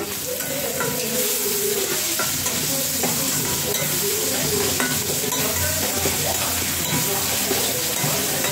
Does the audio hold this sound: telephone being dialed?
no